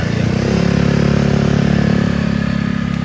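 Restored first-generation Honda Vario 110 scooter engine running close up, a loud, steady, slightly rattly putter that holds an even rhythm with no voices over it.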